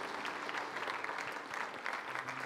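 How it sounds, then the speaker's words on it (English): Congregation clapping in praise during a church service, a steady dense patter of many hands that runs throughout at moderate loudness, with faint voices and a low tone underneath. "Give the Lord a hand clap of praise if you believe that."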